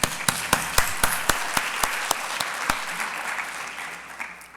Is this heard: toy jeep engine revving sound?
no